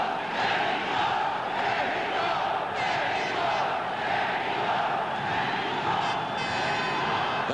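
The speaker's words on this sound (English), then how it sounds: "The crowd chanting Mexico for Jose Napoles." Boxing arena crowd chanting "Mexico" for Jose Napoles during his rematch with Billy Backus, a loud massed rhythmic chant with cheering that rises and falls in waves across the hall.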